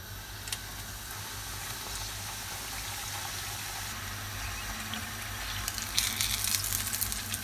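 Çiğ börek frying in very hot oil, a steady dense sizzle and crackle that holds throughout and grows a little louder and brighter toward the end, close by with no talking.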